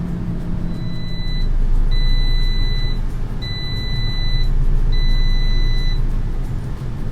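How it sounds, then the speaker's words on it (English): An Instant Vortex Plus air fryer timer beeps in four evenly spaced high-pitched bursts, each about a second long, sounding over a low steady hum of the running appliance. "Alright, the timer's gone off."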